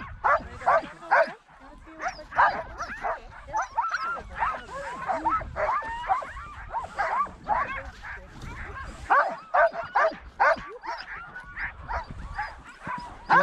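A team of sled dogs on a helicopter dogsled outing in Alaska barks, yips and whimpers excitedly, close and loud in overlapping bursts, with people talking among the dogs.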